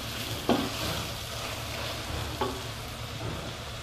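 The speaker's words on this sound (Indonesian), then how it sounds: "Ini ditumis hingga berminyak dan tanak" A spice paste sautés in oil for chicken woku, a soft even sizzle close by with two sharper spatula clinks against the pan, no one speaking.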